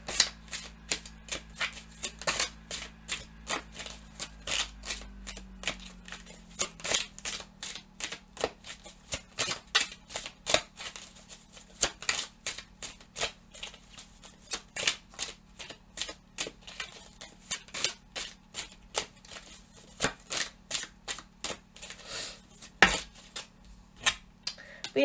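Tarot cards being shuffled by hand, a long run of quick papery riffles and snaps repeating steadily at close range, with no talking over them.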